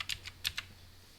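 Typing on a computer keyboard, a few quick soft key clicks close by in a quiet room, no voices.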